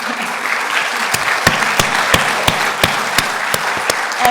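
Audience at a community association's general meeting applauds the island's fire chief, a steady crowd of hands with several sharper, louder claps standing out at fairly regular intervals.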